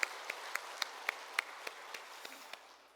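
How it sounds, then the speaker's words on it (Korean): Sparse, quiet clapping from a small part of a church congregation after the choir's hymn at a Sunday service, about a dozen distinct claps in loose rhythm that thin out toward the end. "다시 한번 우리 찬양대의 아름다운 찬양 감사의 박수 하겠습니다."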